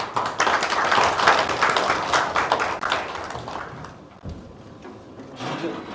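Audience clapping welcomes a speaker at the launch event of a basic-society organization's Hwaseong chapter, a dense burst of many hands that thins and fades toward the end.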